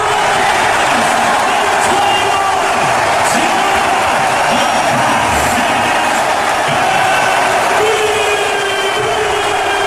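A large crowd at a basketball game roars continuously and loudly, a dense wash of cheering voices with occasional louder shouts rising above it.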